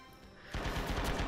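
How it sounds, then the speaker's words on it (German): Type 99 machine gun fire in Red Orchestra 2 on Guadalcanal: a sudden, loud, rapid string of close shots, each round hammering out in an even, fast rhythm after a brief quieter moment. "Typ 99 oder Typ 69, ich weiß gar nicht, wie das Maschinengewehr heißt"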